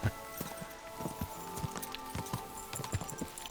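Horse hooves clip-clop in a steady walking rhythm while riding in Kingdom Come: Deliverance II, close and distinct over a faint game ambience.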